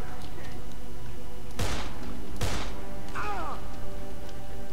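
Two sharp, loud gunshots about a second apart in the zombie game Dead Island, inside a police office, over a steady hum, followed by a short scraping sound.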